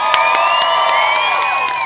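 A large crowd cheers, whoops and shouts for a group of kids, a loud sustained roar filling the whole moment without pause.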